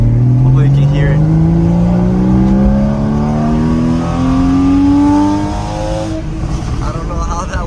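Porsche with a naturally aspirated flat-six engine in sport mode, accelerating hard with a loud, rising howl through the revs, then easing off into a quieter drone, heard from inside while on the move.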